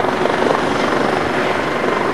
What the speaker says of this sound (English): the helicopter is now free to collect Dr. Pete LeMann and his patient, Delenn,